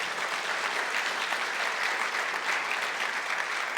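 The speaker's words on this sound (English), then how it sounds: "I'll take that round of applause back there" Steady, dense applause from a large audience at a political gathering, continuous and even for several seconds with no voices standing out.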